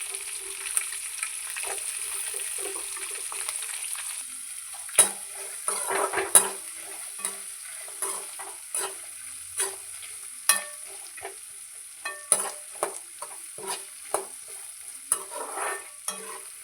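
Chopped onions sauté in oil under an even frying hiss, punctuated by repeated sharp scrapes and taps of a utensil against the pan as they are stirred.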